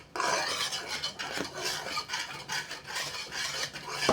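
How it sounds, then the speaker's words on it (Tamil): Flour batter whisked steadily in a pan to keep it free of lumps for a sweet, a close, continuous rasping scrape of the whisk against the pan in quick uneven strokes, with no voices. "நல்லா கைவிடாமல் ஒரு விஸ்கு வச்சு கட்டி இல்லாமல் நல்லா கலந்து விட்டுகிட்டே இருக்கணும்"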